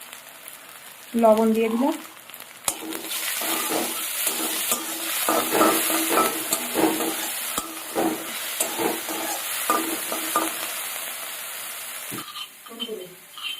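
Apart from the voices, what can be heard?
onions frying in hot oil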